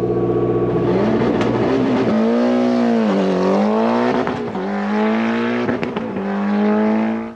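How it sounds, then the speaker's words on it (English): A rally car engine from the 1993 Network Q RAC Rally revs hard and close, rising and falling through repeated throttle blips in a loud, continuous roar. "By the sounds of things, that car's ready"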